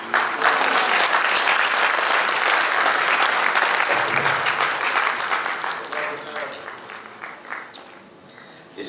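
An audience in a hall at a World Hindi Day event claps for a guest with dense, sustained applause that gradually fades toward the end, with a voice heard over it.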